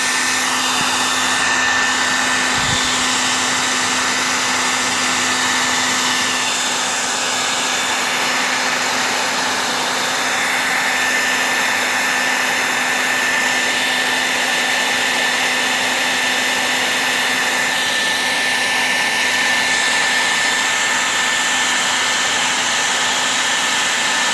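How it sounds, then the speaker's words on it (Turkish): A hair dryer blows steadily while heating the screen of a Samsung phone, a loud, constant whirring hiss with a faint tonal hum, running unbroken and close for the whole stretch. "Yapalım şimdi saç kurutma makinesiyle."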